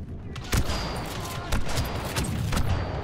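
Loud gunfire and a grenade blast in an Xbox shooter, with dense, sharp bursts and booming impacts repeating about once a second over a continuous roar.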